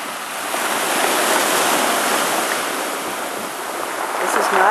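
Hurricane Sandy surf crashing on the Sakonnet shore near high tide, a loud continuous roar of breaking waves and wind swelling and easing.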